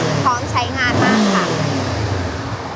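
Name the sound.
Honda CB500X motorcycle engine revving, stock exhaust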